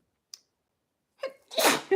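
A single close, loud sneeze with a quick sharp intake before it, then a burst of breath at the end.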